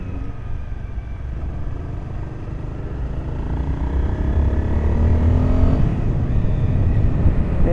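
A motorcycle engine drones steadily while riding on a cold day, its low rumble rising gradually in pitch as the bike gains speed, up close with wind noise.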